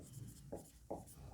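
Chalk or marker scraping across a classroom board as a physics question on light refraction is written, two short scratchy strokes standing out over a quiet room.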